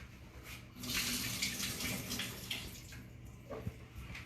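Soaking water drained from cut russet potatoes through a strainer, a continuous rushing pour that swells then tapers into splashes and drips, close and fairly quiet.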